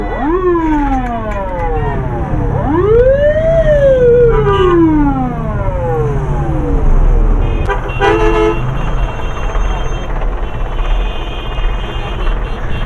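A wailing ambulance siren sweeps up and down repeatedly on a congested road between Dhaka and Manikganj. Loud, close vehicle horns toot briefly among it over a constant rumble of traffic.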